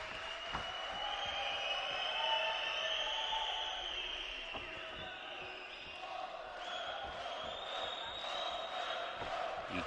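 A steady crowd roar fills an arena during a round-of-16 light flyweight amateur boxing bout, with cheering rising and falling throughout, scattered thuds and squeaks from the ring, and a commentator talking over it.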